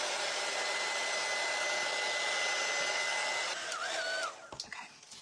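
A hair dryer blows steadily and loudly over a painted gingerbread cookie craft with a faint high whine, then cuts off near the end, followed by brief handling clatter.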